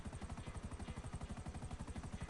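Helicopter in the video game GTA 5, a steady rhythmic rotor chop with a pulsing low thump, moderately quiet and heard alone without talk.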